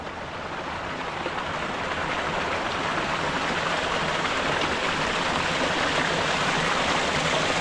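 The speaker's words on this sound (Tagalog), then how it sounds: "Dito na kami sa ilog." Steady rushing water from a flowing stream fills the whole stretch, a continuous broad hiss with no voices.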